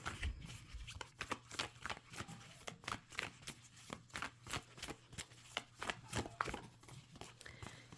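Tarot cards being shuffled by hand: a steady run of soft, quick riffling and flicking taps, close and quiet, with no talk.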